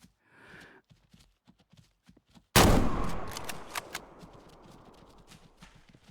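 A single loud rifle shot in the winter hunting game Way of the Hunter cracks out sharply and rings off in a long fading tail, after a stretch of faint shuffling steps.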